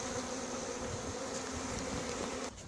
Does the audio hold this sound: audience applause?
no